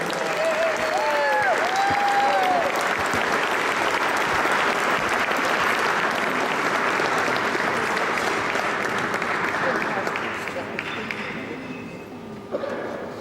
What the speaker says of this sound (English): Let's have a nice warm round of applause for Cristian Rivera